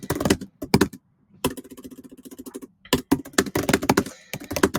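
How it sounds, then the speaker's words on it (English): Rapid clicking bursts of computer keyboard typing come in quick irregular runs with brief pauses, close and clear, with no voices over them. "and just start typing."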